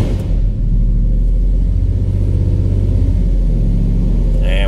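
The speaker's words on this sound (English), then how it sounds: "We're gonna go ahead, start the vehicle." Supercharged Dodge Hellcat V8 idling with a deep, steady low rumble that stays loud and constant throughout, with only slight shifts in tone and no clear sharp revs.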